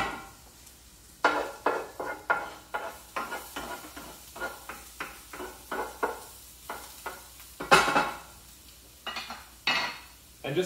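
Ginger sizzling in oil in a pan while being stirred, a rhythmic run of scraping strokes and clinks over a soft sizzle.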